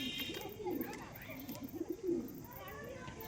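Pigeons coo softly in a home loft where young birds are being settled, a few low murmuring calls rising over faint background noise.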